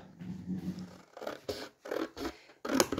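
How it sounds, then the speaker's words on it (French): Scissors cut through paper in several short, crisp snips with brief pauses between them, heard close up during a paper box-making craft. "je vais le faire avec les ciseaux"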